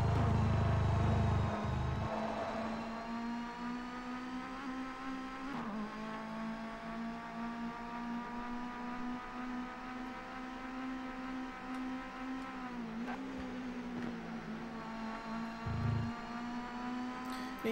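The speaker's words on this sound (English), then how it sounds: "Even the car sounds were pretty good, really." Race car engine from the PS1 game TOCA 2 Touring Cars at Donington: a steady, sustained high-pitched engine whine held at near-constant revs, with a few brief shifts in pitch, fairly quiet and with no talk.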